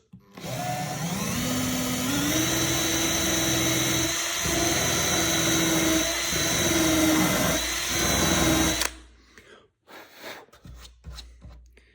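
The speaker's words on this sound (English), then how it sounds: "So we will carefully come in here and drill this." A power drill whines steadily at high speed for several seconds drilling into the fiberglass of a stand-up paddle board, its pitch rising as it spins up, then cuts off, leaving faint clicks and handling noises.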